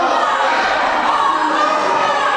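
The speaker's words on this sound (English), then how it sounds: "This crowd is just on their feet, standing for Harker Dirge." Wrestling crowd on its feet, a dense, steady roar of cheering and shouting that fills the whole stretch with no break or letup.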